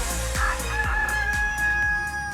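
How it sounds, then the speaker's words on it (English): Backyard chickens crow loudly and close with sustained drawn-out calls, while clucks and scratchy bird noises carry on underneath without pause. "I don't know what our chickens are doing."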